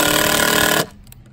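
A power drill runs loud and steady driving screws into wooden bridge boards outdoors, then cuts off abruptly, leaving faint background sound.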